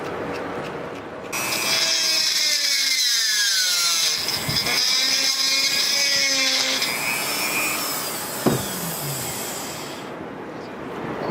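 Power drill boring into a Carl Walther knife, a loud sustained whine that sags in pitch under load and rises again, stopping near the end after a sharp knock.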